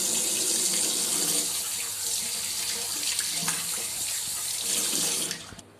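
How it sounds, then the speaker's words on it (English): Clean tap water runs steadily from a faucet while hands are washed at a sink, a continuous close splashing hiss that stops abruptly near the end. "wet your hands with clean running water"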